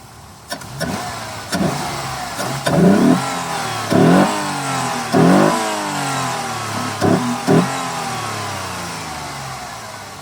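A 1998.5 Ford Contour SVT engine revs repeatedly in short bursts, each rising sharply then falling back to idle, recorded up close from the front with no talking.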